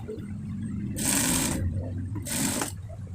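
A sewing machine stitching the collar of a fatua shirt, two short whirring bursts of about half a second each, separated by a brief pause, close by over a quiet background.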